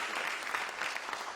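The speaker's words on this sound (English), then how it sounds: "You can clap." Brief, soft audience applause from an event audience, steady clapping without voices.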